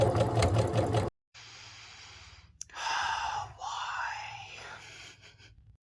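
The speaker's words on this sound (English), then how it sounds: "So now I'm just gonna straight stitch around." Sewing machine straight stitching around fabric for an Easter basket, a close mechanical whirring hum running in stretches with brief stops, with breathy vocal sounds at the start and a sigh-like sound during the stitching.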